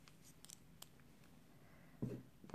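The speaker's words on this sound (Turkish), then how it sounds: "ve makasımızla uzunca dikiş için bir iplik bırakıyoruz" Scissors cut knitting yarn with two quick, faint snips, close by in an otherwise quiet room.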